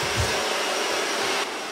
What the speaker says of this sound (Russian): Шумит фен